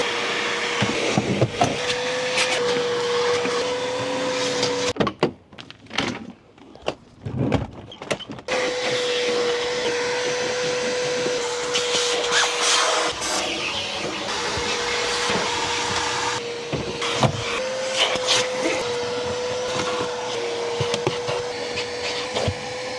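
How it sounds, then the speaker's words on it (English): A vacuum cleaner runs steadily over the carpets and floor mats of an old BMW E30, a continuous whine with brief interruptions and bumps as the nozzle moves around. "I think the carpets just need a vacuum"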